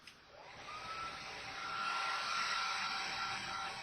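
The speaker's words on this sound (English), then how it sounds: "we'll turn on the hair dryer here and dry this up" A hair dryer blows steadily with a constant whooshing roar and a faint whine, close by and uninterrupted, drying a car dashboard during detailing.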